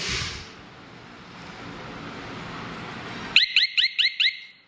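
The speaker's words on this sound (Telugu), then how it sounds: "హారన్ సౌండ్ తగ్గింది కదా, ఇట్లా వస్తాయి." A JS Agro Bharat baler's automatic control unit sounds its horn alarm at reduced volume: five short, evenly spaced electronic beeps close by, following a steady low hum.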